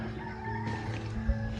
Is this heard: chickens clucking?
yes